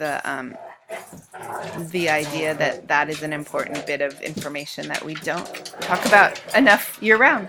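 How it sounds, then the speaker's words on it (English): Dogs barking and growling in the background of a home recording, mostly under continuous close talk from a speaker. "Apologies for the dogs, they're always annoying."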